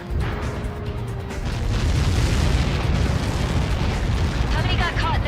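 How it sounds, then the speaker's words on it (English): A huge missile impact explosion in the Ace Combat 7 flight combat game erupts into a sustained, loud rumbling roar that swells and lingers, with a voice talking over the tail end. "How many got caught in that explosion?"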